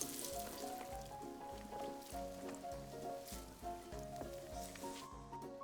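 Batter-dipped French toast sticks frying in a pan, a steady close sizzle and crackle of hot oil with low rhythmic thumps underneath, with no talking.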